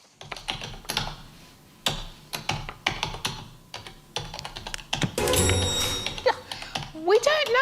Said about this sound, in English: I'm going to play the sound of someone typing.